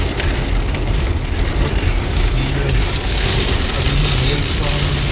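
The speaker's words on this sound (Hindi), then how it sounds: "अभी हेल स्टॉम ज़्यादा अभी डिफरेंट बहुत तेज बारिश है, तो स्टॉर्मी रेन स्टॉर्म वाली बारिश है।" Heavy, stormy rain mixed with hail pounds on a vehicle driving through the storm, a dense, loud, continuous drumming and hiss that lasts the whole stretch.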